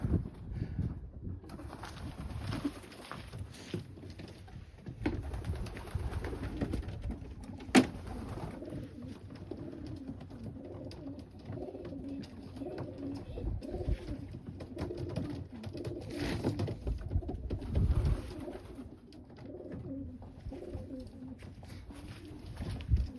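Young Janssen De Klak pigeons coo softly and repeatedly at close range, overlapping low burbling calls with occasional rustles and flutters in a quiet space.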